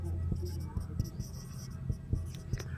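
A marker or chalk taps and scratches on a classroom board in quick irregular strokes, close and moderately loud, with a faint voice underneath.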